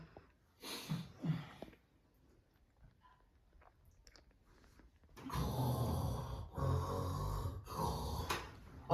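Loud rhythmic snoring by a man in a home setting: two brief snorts early on, then a quiet pause, then three long, heavy, rasping snores close by, with no talk.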